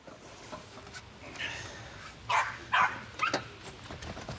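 Dog barking in a suburban yard, a few sharp barks spaced irregularly over faint background noise, moderately near and not loud.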